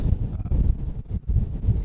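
Wind buffets the microphone on a mountain plateau in Dovrefjell National Park, Norway, in low, gusty rumbles that rise and fall in uneven bursts, loud and close, with no voices.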